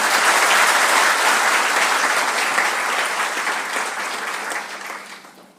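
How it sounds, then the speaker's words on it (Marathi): An audience at a police officer's retirement ceremony claps loudly in sustained, dense applause that holds steady and then gradually tapers off toward the end. "जोरदार टाळ्या होऊ द्यात"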